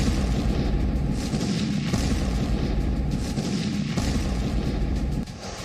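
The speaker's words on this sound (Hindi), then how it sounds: "इस फुटेज में DF-17 मिसाइल लॉन्च होती नजर आ रही है" Chinese DF-17 hypersonic missile launching, a continuous heavy low roar that stays loud and steady throughout, then drops away slightly at the very end.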